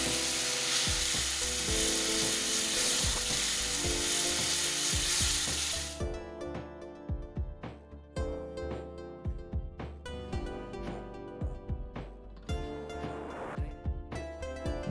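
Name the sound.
stirring okara dough mixture with hot water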